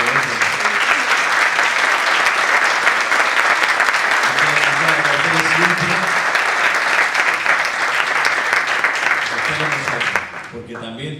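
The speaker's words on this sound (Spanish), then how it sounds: "Un aplauso para don Antonio" A conference audience in Frigiliana gives a long, loud, dense round of applause that holds steady for about ten seconds before tapering off, with some voices mixed in.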